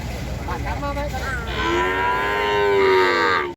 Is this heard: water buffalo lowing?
yes